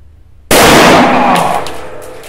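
A single sawed-off 12/76 IJ-43 double-barrel shotgun fires its left barrel, one sharp, very loud blast with a long ringing decay, alone.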